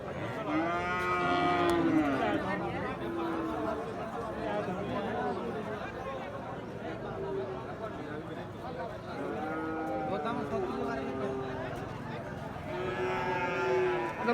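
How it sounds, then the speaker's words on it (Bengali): A six-month-old Australian bull lets out several drawn-out, harmonic moos with pauses between them, close by at the Ambari cattle market, over a steady murmur of crowd chatter. "চমৎকার একটি অস্ট্রাল ষাঁড় গরু"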